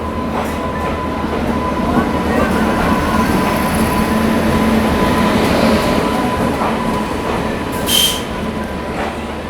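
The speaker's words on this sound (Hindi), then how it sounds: "भाई अपनी ट्रेन गोरखधाम सुपरफास्ट एक्सप्रेस आ चुकी है, 40 मिनट डिले के साथ आई है नई दिल्ली रेलवे स्टेशन पे।" Gorakhdham Superfast Express pulling into New Delhi railway station, a steady loud rumble of rolling wagons with a sustained wheel squeal and a brief hiss near the end, no talk.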